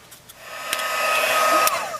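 A heat tool blows a steady, rising whoosh of hot air to set embossing powder on glimmer paper, running close and loud for about two seconds with a few faint taps at the start.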